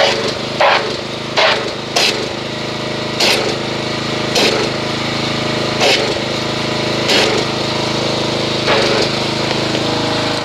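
A pressure washer spraying car soap foam, a loud steady motor hum with the hiss of spray and repeated short bursts as the trigger pulses.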